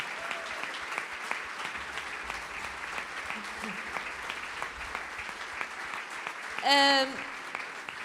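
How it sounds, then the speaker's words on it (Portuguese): Church congregation applauding two pastors, a steady wash of many hands clapping at moderate distance, with voices speaking over it and a brief louder burst near the end. "Vamos dar um grande aplauso a estes dois servos de Deus, está bem?"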